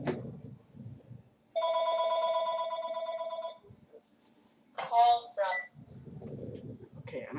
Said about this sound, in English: And the phone starts ringing again.